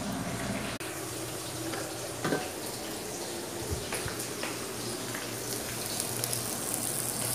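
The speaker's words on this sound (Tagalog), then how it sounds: "parang papakuluan ko siya, lagyan ko ng mainit na tubig" Hot water is poured into a cooking pot in a home kitchen, a continuous splashing stream with a few small clinks and knocks, fairly close and with no speech.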